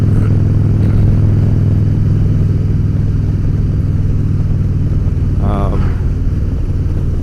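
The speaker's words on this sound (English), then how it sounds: "she sounds like a whole new bike" A Harley-Davidson motorcycle with a 103 cubic inch engine runs steadily with a deep, continuous throbbing rumble at close range, mixed with wind noise and occasional speech.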